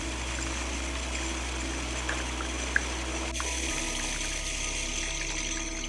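Water pours steadily into a filling container, a soft continuous trickle under a low steady hum, quiet and close, with one small click partway through and no talking.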